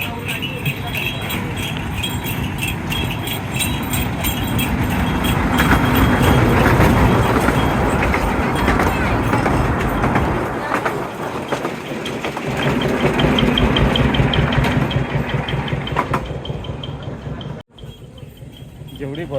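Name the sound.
crowded Virar local train arriving at a Mumbai station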